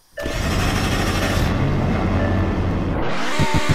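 Engine of a 2008 BMW M4 in the Roblox game Greenville, a steady droning rev held loud for about three seconds before easing off, ending in a few low rhythmic pulses.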